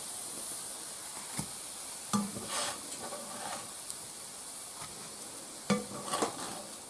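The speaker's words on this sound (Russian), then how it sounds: "Так, котлетки шкварчат." Meat cutlets fry in a pan with a steady soft sizzle and hiss, broken by a few louder crackles and stirring clinks, fairly faint overall.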